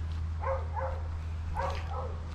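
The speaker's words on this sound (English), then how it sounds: "there's someone's dog barking" A dog barks at a distance near a quiet campsite, giving two short pairs of faint barks. A steady low hum sits underneath.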